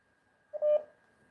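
A single short telephone keypad dialing tone sounds clearly and alone against near silence while a call is being placed.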